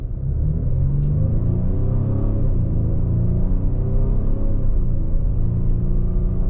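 A 2025 Ford Explorer Active 4x4 with the 2.3 EcoBoost engine and 10-speed automatic pulls away from a stop, giving a steady low cabin rumble of engine and road noise that holds even throughout, with no talking.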